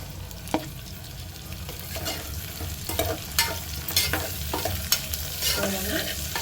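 Cauliflower and beans go into a pan of frying onions and sliced green chillies, producing a steady close sizzle broken by several sharp stirring scrapes and clatters of a utensil against the pan.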